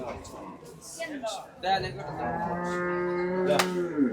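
Cattle at the Gabtoli cattle market give a long, loud, drawn-out moo that swells and holds near the end, with indistinct market voices and bustle beneath it.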